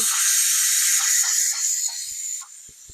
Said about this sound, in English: And you can see the steam. And you can probably hear it.